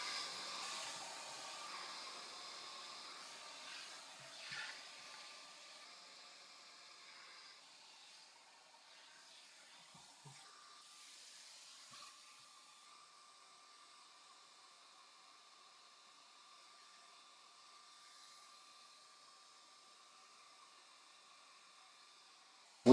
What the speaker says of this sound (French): Diffuseur sur la ventilation la plus douce et sur la chaleur, pareil, la plus légère.